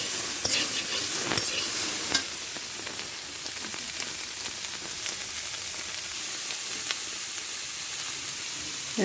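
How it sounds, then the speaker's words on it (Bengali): Potato, greens and raw banana frying on low heat in a pan, a steady close sizzle running throughout with occasional sharp stirring clicks, no talk. "এভাবে আমি হালকা আঁচে 5 মিনিটের মতো ভেজে নেব"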